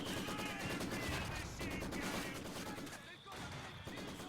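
Maxim machine gun in Company of Heroes 2 firing rapid sustained bursts amid a busy battle din, with a short lull before the shooting resumes and commentators talking over it.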